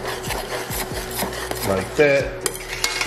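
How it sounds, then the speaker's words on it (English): Grits with butter and pepper are stirred in a pot as they come to a simmer, giving repeated close scraping and rubbing strokes of a utensil against the pot, with a short bit of talk. "we're just gonna give this thing a, just gonna mix it up"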